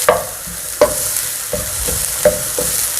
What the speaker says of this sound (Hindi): ये प्याज हमारी हल्की सी फ्राई हो चुकी है, बस इतनी सी फ्राई करनी है